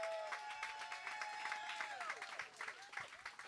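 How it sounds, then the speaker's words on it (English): An audience applauds at a DJ set event, a dense, fairly distant wash of clapping with cheers and whistles running throughout. "make it loud, clap for him"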